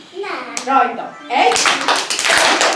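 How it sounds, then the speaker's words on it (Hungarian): Audience of children and adults clapping hands in a burst at a storytelling event, loud and close, following an adult voice giving instructions. "most háromszor kell tapsolni"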